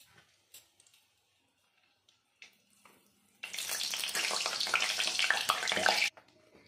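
Four cardamom pods and four or five cloves dropped into hot oil: after a few faint clinks, a sudden loud, bright sizzle bursts out and holds for about three seconds, then stops.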